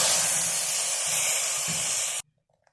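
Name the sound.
frying ingredients in a pan for sheer khurma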